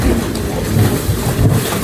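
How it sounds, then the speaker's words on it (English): Ocean waves wash and crash into rocky pockets along the Acadia National Park shore at high tide, a steady close roar of churning water with rumbling surges. "The waves will come in and crash."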